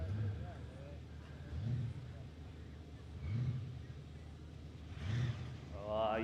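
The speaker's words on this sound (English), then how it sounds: "you can always tell the sound of a supercharged car." A supercharged drag racing car at a no-prep airstrip drag meet rumbles low and surges in repeated swells of acceleration, heard from a distance beneath continuous commentary.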